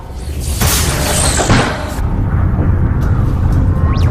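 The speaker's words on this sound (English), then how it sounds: "Some sort of explosion in the airlock." A heavy explosion tears through a spaceship airlock in a sci-fi space film, a loud booming blast that rolls straight into a sustained, roaring rumble with no break for the whole stretch.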